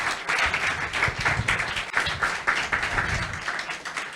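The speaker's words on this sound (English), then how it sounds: "Can we once again give them a huge round of applause?" Audience applause after a nursing team's skit performance at a hospital head-injury awareness event, steady clapping throughout with rhythmic peaks, fairly close and sustained.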